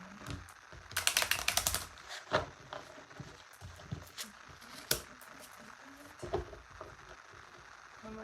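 A deck of tarot cards is shuffled close by, with a rapid papery riffle burst followed by scattered soft flicks and taps of the cards against each other.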